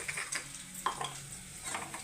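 Spices, salt and turmeric, being stirred and fried in a pan, with soft sizzling under light scraping and clinks of a utensil against the pan through a short stretch.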